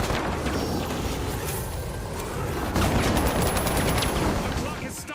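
Dense, loud automatic gunfire rattles continuously in the video game The Finals, rapid overlapping shots with a rumbling background and brief talk.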